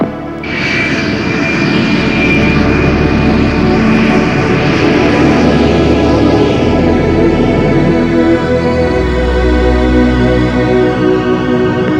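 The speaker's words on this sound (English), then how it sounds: "Boeing 757 cleared to takeoff runway 33, wind 180 at 24" A Boeing 757 jet airliner takes off with a loud, continuous, close engine roar that holds steady throughout with no talk.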